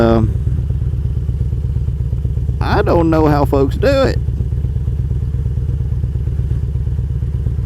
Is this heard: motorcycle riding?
yes